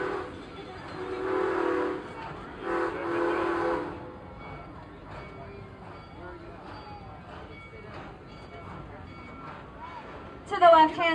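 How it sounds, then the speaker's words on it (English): A steam train rumbling along the tracks with two loud horn-like blasts at the start, then a quieter steady rolling clatter. "And that steam propels the train along the tracks."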